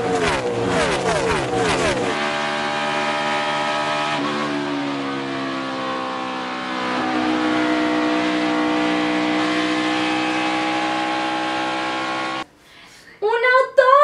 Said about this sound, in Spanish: Es esa pista en donde los carros se echan unas carreritas